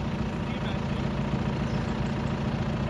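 A Scania truck engine runs steadily through a diesel particulate filter regeneration, a loud, continuous low diesel rumble with broadband roar and no pauses, close by and without talk.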